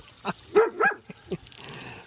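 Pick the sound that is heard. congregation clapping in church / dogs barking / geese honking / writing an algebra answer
dogs barking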